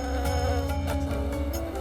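Bees swarm around their hive in a continuous, even buzzing drone that holds steady for a couple of seconds without any speech.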